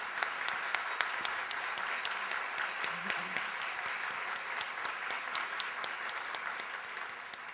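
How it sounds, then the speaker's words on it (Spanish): Sustained audience applause fills a conference hall at an institutional training day, dense and steady clapping from a large crowd lasting throughout, with a brief low murmur partway through. "fuerte el aplauso, ¿sí? Por favor."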